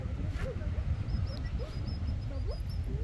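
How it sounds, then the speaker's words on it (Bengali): Birds calling near mangrove trees on a stony evening beach in the Andaman and Nicobar Islands, short rising chirps and a higher thin whistling call over a low steady background rumble. "পাখির ডাকের আওয়াজ পাওয়া যাচ্ছে সুন্দর"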